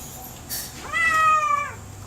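A cat lets out one loud, clear, drawn-out meow close by during a veterinary ultrasound-guided urine draw, after a brief rustle, with no talking.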